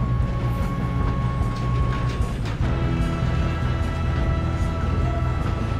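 A train rumbles and clanks steadily in Red Dead Redemption 2 during a robbery, with sustained low mechanical drone and tonal hum, plus scattered metallic knocks throughout.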